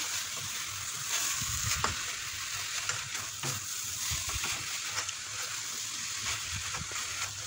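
Sauce of lemon juice and soy sauce stirred and mixed in a bowl for a cigar-shaped msemen filling, heard as a steady wet, hissing swish with soft scraping knocks throughout, close and fairly even.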